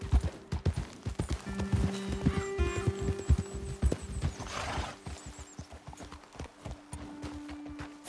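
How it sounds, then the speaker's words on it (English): Horse hooves clip-clop at a steady gait in the video game Red Dead Redemption 2, with a neigh and whinny and faint hum underneath, moderately close and continuous. "let's dismount here. Best leave the horses back a bit."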